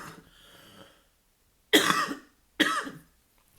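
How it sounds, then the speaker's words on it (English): A woman coughs in two sharp, loud bursts about a second apart, after a brief quiet stretch with faint breathing. "I start coughing again"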